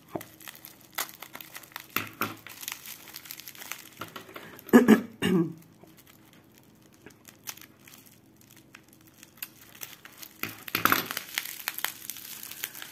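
Faint crinkling and rustling of bubble wrap and tape packaging being unwrapped close by, with a few louder crushing bursts and intermittent crackles.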